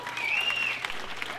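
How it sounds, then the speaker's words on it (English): Scattered clapping from a crowd, moderate in level, with a faint whistle-like tone early on and no speech. "Clap if you have, no?"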